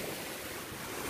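Surf on the ocean rushes in an unbroken wash of breaking water and wind noise, a constant full hiss with nobody speaking.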